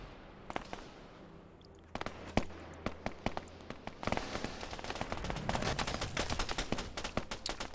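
Gunshots from an Arma-style military video game, a CBRN squad sweeping Kavala, start as scattered single cracks, then swell into dense, overlapping bursts of rapid fire that grow louder and busier toward the end.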